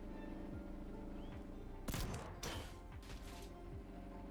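Tank cannon blasts in the vehicle-building game TrailMakers, three sharp loud booms spaced about half a second to a second apart over a steady mechanical engine drone.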